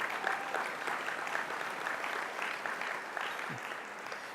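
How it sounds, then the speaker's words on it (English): An audience at an alumni awards celebration gives a short round of applause, a faint, steady patter of many hands clapping for a few seconds with no talk. "That deserves an applause."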